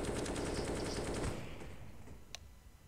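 Rapid automatic gunfire bursts in a Counter-Strike: Global Offensive matchmaking game, loud and dense for over a second, then fading to a quieter tail with a single sharp shot near the end.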